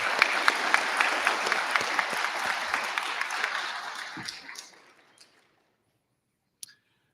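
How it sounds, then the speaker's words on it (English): An audience at a regional science and engineering fair awards ceremony, held at U of M Flint, claps in a dense round of applause that goes on for about four seconds, then thins and fades out, followed by a lone click near the end. "So I'd like a big round of applause for U of M Flint for this."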